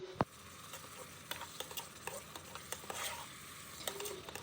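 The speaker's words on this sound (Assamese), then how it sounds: "আলুখিনি দিয়াৰ পিছতে এইখিনি ভালদৰে লৰাই ল'ম আৰু অলপ সময় সিজিবলৈ দিম" Fried baby potatoes stirred in a cooking pan: a soft, quiet scrape-and-patter of a spoon moving the potatoes, with a faint sizzle and a few sharper clicks scattered throughout.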